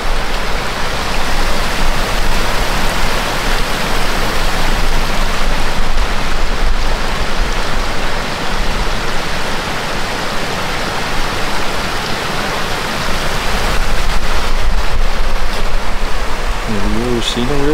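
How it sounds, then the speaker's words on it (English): River with a small waterfall in the Sawtooth Mountains in autumn, a dense, steady rush of flowing and splashing water filling the whole scene close up, with a brief faint voice near the end. "See, and there's even a little waterfall."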